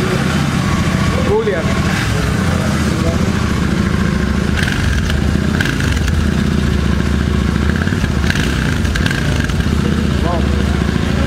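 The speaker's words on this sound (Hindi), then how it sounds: "सो इसका एक बार एग्जॉस्ट सुनते हैं।" A Royal Enfield motorcycle's exhaust rumbles close by, a steady throbbing idle with a few small blips of throttle, while people talk over it.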